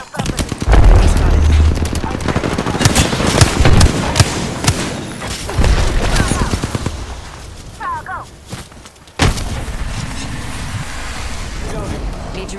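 Rapid gunfire bursts and thudding impacts in the Apex Legends video game, loud and dense in the first half, then thinning to scattered shots and game effects while a voice talks over parts of the action.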